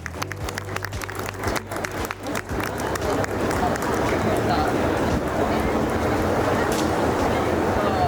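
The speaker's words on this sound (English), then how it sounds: "Big round of applause for ma'am" Audience at a school event applauds as a woman is invited to the stage, with steady dense clapping swelling and holding loud throughout, and some sharp individual claps and bumps early on.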